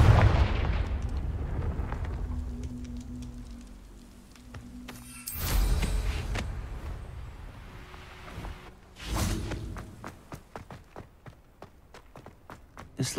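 A Confringo blasting spell in Hogwarts Legacy goes off several times: sharp, booming bursts a few seconds apart, each with a rumbling tail, between quieter footsteps and light clicks.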